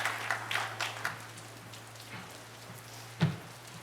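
Rain falls steadily on an outdoor commencement ceremony, a soft even patter with a few louder drips and a brief sharp knock near the end, heard alone without talk.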